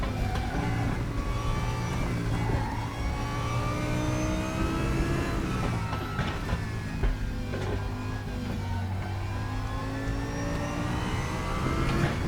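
An Audi R8 LMS Evo GT racing car in the RaceRoom sim racing game, its engine droning and revving continuously through gear changes, loud and sustained throughout with no talking.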